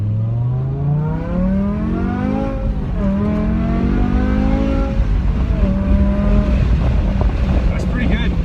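A BMW E60 M5 with a V10 engine accelerates through the gears, its engine tone climbing in rising sweeps and dropping at each shift, loud and close from inside the car.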